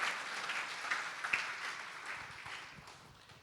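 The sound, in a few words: church congregation clapping hands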